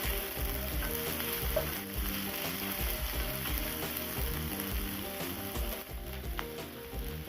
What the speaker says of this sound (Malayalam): ജിഞ്ചർ ഗാർലിക് പേസ്റ്റും 1 ടേബിൾ സ്പൂൺ ചേർത്ത് കൊടുക്കാം. ഇത് നന്നായി ഒന്ന് വഴറ്റിയെടുക്കാം.